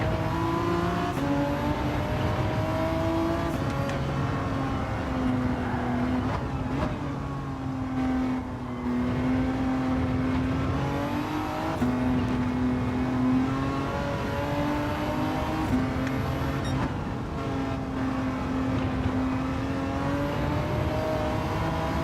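A stock BMW M2 Competition in Gran Turismo 7 drones steadily through a lobby race, its engine note rising and falling with gear changes and throttle, loud and continuous with no talk.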